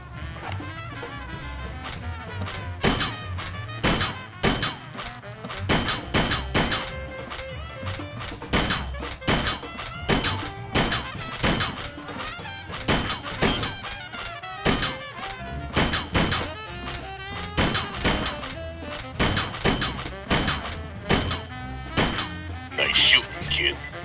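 Shooting gallery shots in the comedy point-and-click game Sam and Max Save the World, a long series of sharp, evenly repeated thunking hits with brief ringing tones, while game voices talk in between.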